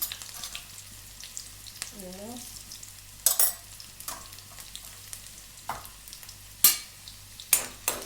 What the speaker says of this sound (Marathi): जिरं आपण परतून घेऊ.